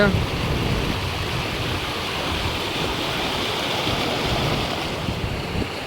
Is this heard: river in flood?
yes